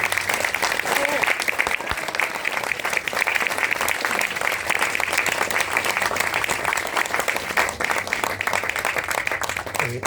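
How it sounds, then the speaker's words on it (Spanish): A film screening audience gives sustained applause to director Francisco Lombardi and cinematographer Philip Flores Guerra, a dense, even wall of clapping that holds steady and loud for ten seconds. "Aplausos"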